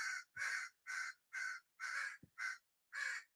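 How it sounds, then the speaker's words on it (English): Crows caw in a rapid run of seven harsh, evenly spaced calls, fairly close and clear against an otherwise quiet background. "I don't know if you guys can hear those crows."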